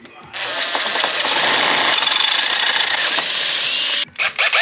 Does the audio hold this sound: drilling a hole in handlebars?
yes